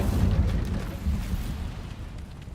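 An Incendio fire spell cast in Hogwarts Legacy, a loud whooshing burst of flame with a low rumbling roar that swells and then fades over a couple of seconds, no talk.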